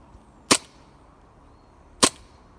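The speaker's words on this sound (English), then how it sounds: "less chatting, more shooting. So Semi, here we go." Two sharp, close snaps from a KWA VZ61 airsoft gun fired in semi-auto, single shots about one and a half seconds apart against a quiet background.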